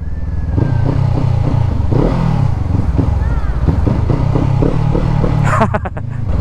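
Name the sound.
motorcycle engine revving on road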